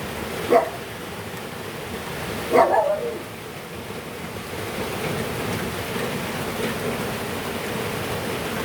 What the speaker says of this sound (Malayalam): ഇവിടെ നല്ല മഴയാണ് ഗൈസ് നല്ല മഴ